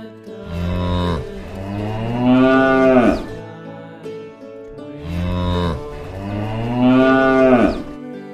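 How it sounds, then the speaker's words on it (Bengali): Cattle moo twice in a row, each call long and loud with a drawn-out, rising then falling tone, close by with a short pause between. "গরু বাছুর দাঁড়িয়ে আছে।"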